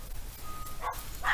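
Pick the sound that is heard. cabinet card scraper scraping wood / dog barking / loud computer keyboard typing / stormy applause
dog barking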